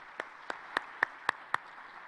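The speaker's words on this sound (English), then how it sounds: "warm round of applause" Six slow, evenly spaced claps ring out clearly at a Commonwealth summit session, each one crisp and close, with quiet between them.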